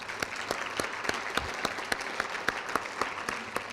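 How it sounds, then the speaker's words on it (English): A small audience at a brain injury services reception claps for a musical performer, sparse separate hand claps in a loose rhythm, fairly quiet and somewhat distant. "Can we give her a round of applause?"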